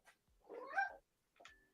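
A cat meows close by, a short chirp followed by a drawn-out wavering meow and then a brief clipped call, with silence in between.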